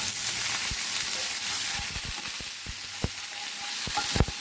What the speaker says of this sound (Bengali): এখন পেঁয়াজটা দিয়ে দেবো। সঙ্গে আলুটাও দিয়ে দিচ্ছি।